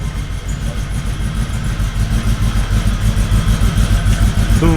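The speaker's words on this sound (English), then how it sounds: "What you're hearing is the truck on." A cammed truck idles nearby with a loud, steady, lopey rumble that pulses evenly throughout and stands alone without any talk.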